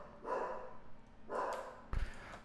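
Dogs barking in short bursts, three loud barks spaced apart, fairly close with no talking.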